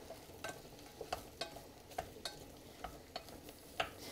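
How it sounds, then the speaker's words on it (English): Sliced mushrooms fry in oil in a pan while a wooden spoon tosses them, giving a soft continuous sizzle broken by a string of sharp, irregular spoon clicks and scrapes, about ten in four seconds, with no talking. "Add in your mushrooms, and you'll want to grab a wooden spoon or something just so you can toss them"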